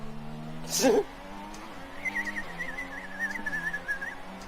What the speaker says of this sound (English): Yeah, really weird whistling noises.